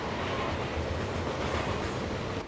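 Train departing a station in the video game Vivisector, a steady low rumbling roar of the moving train with broad rushing noise, continuous and fairly loud.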